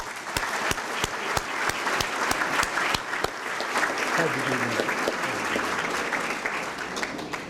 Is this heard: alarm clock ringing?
no